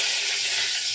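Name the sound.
eggplant frying in a pan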